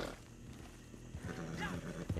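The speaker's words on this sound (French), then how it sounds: "C'est un ours encore?" A bear roars in a video game while a stable and horse purchase are on screen, a low growling roar rising over faint game ambience, with a voice speaking softly alongside.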